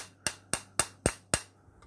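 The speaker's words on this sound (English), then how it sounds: "you could take a hammer or a screwdriver and just tap it in" A hammer taps a small pin into a 1915 Colt Police Positive revolver: five sharp, evenly spaced metallic knocks, close and clear, then a faint last touch.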